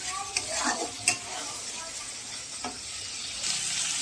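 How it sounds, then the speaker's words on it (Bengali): Mustard seeds frying in oil in a wok: a steady hissing sizzle with a few sharp pops and taps of stirring, close and moderately loud. "আমি এবারে সর্ষে আমার ভাজা হয়ে গেছে"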